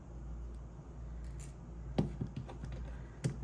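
Scissors trim craft material in a quiet room, giving a few soft, close snips and rubs, with two sharper cuts standing out against a low background hum.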